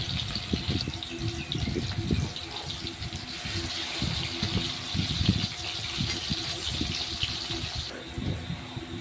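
Amudi fish pakoras frying in oil: a steady, close, bubbling hiss that runs unbroken throughout, with faint voices murmuring beneath it.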